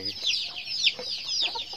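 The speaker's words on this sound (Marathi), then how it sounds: "ही एक कोंबडी आहे" A farm hen among a flock of brooding hens with chicks gives a few short, bright clucks in quick succession, close by, over faint background farmyard noise.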